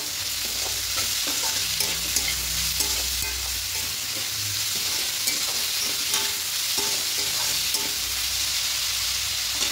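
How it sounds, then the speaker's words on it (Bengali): Pumpkin for a vegetarian chhechki being stirred in a pan with turmeric, salt and sugar, a steady sizzle under repeated scraping strokes of the spoon, close and continuous with no talk. "এবার খুব ভালো করে মিশিয়ে নেব"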